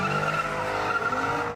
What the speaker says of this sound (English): There was just a lot of tire screeching.